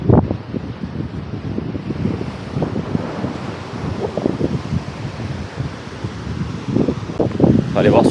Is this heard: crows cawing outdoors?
no